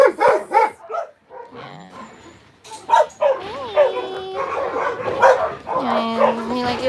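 A dog barks close by in loud, sharp bursts mixed with yips and whimpering whines, while people talk over and between the barks.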